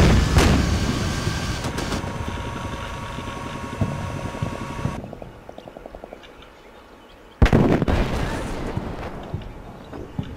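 Artillery strikes land during a Combat Mission Shock Force Marines battle: heavy booms open the scene and burst again later, with a continuous rumbling engine drone and distant crackle filling the space between.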